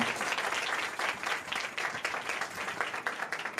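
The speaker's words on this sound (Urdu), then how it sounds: "یسوع کے لیے زوردار تالیاں بجائیں" A church congregation applauds, a dense, steady patter of many hands clapping together for several seconds, moderately loud and unbroken, with no speech over it.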